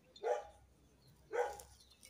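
A dog barks twice, two short separate woofs about a second apart, fairly close against a quiet indoor background.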